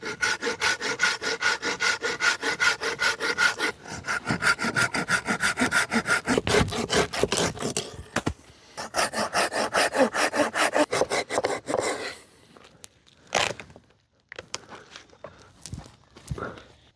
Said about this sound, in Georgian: მომდევნო ნივთი არის ეს დასაკეცი ხერხი